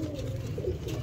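A pigeon coos close by, a soft, low, continuous burbling call lasting about a second with no other sounds around it.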